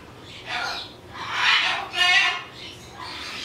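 A tame Jardine parrot calls up close, giving a few harsh, raspy squawks in quick succession over a quiet background.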